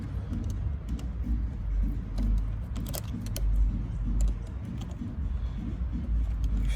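A worm gear hose clamp is tightened on the cold air intake of a Mercedes, with small close metallic ticks and rattles over a low rumbling background hum.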